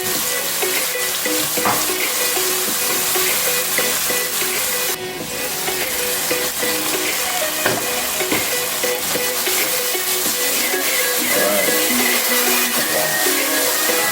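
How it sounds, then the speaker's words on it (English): Tomatoes, garlic and onions sauté in a hot pan, a loud, close, continuous sizzle and crackle with occasional scraping stirs, running steadily throughout with no talking. "Sautéing the tomatoes, the garlic, the onions."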